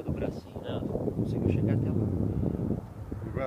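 Wind gusts blowing outdoors near water with boats, a steady low roar and microphone buffeting, with people talking over it.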